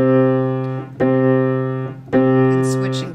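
Piano notes played by alternating hands ring out clearly and close, three sustained notes struck about a second apart, each decaying before the next, with no talk.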